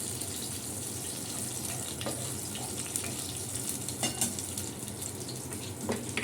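Pumpkin and eggplant frying in a little oil in a pan with kalo jeera and green chillies, making a constant close sizzle with faint stirring scrapes throughout.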